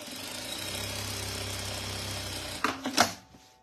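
A sewing machine stitches a bag seam in a steady, fast mechanical whir for about two and a half seconds, then stops with a few quiet clicks and handling knocks, fairly faint overall.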